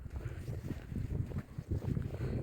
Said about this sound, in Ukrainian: Вітер ви чуєте дме, піднявся.